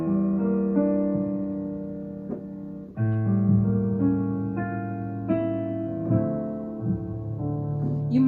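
Jazz chords of a minor 2-5-1 progression, several sustained voicings struck one after another, clear and moderately loud with no talking.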